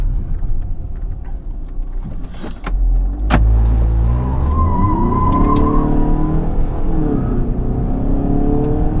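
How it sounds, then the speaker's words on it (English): A Škoda Superb spins its wheels, with the engine revving hard and a rising whine and tyre scrub building over several seconds, loud and close from inside the car. "I understand it hurts your heart every time I wheel spin your car"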